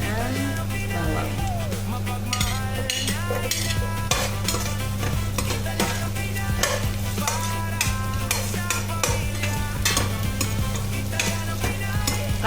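Garlic sizzles and sautés in a pan with oil for a Filipino chicken pinaasiman dish, a constant crackling hiss broken by repeated scraping and clinking of a utensil stirring against the pan, with a steady background hum.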